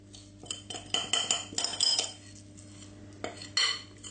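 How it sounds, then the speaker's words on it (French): A whisk beats white chocolate cake batter in a bowl, giving quick bursts of metallic clinks and scrapes in an uneven rhythm, close and clear, with a short pause before a final flurry. "on va juste fouetter le tout pour en fait unifier donc l'appareil"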